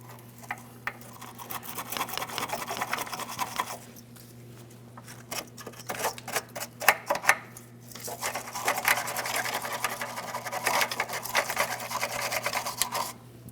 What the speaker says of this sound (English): For this, I'm going to be using a wire brush.